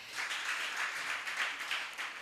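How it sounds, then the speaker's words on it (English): Audience applause at an export summit, a soft, steady wash of many hands clapping at a distance, continuous throughout with gentle swells. "A round of applause again for her."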